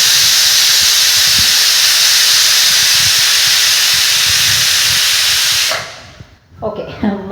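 A pressure cooker holding lentils lets out a loud, sustained steam hiss for several seconds, then the whistle cuts off abruptly, leaving quiet kitchen sounds and a brief voice at the end.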